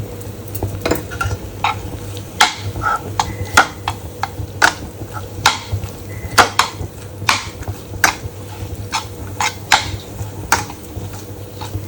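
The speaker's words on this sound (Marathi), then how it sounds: "असं फिरवत राहायचं मिश्रण आता एवढं घट्ट झालं" A thickening sweet mixture with ghee being stirred in a pan, with repeated sharp scrapes and taps of the spoon against metal over a low sizzle, close and fairly loud, no voices.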